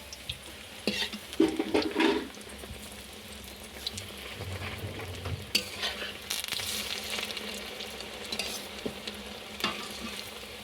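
Shrimp fritters deep-frying in hot oil, with a continuous bubbling sizzle and occasional clatters of a utensil against the pan; close and fairly loud, with no voices.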